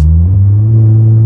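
A Seat Cupra car engine, a loud, close, low rumbling drone with a slight rise in pitch early on, heard alone.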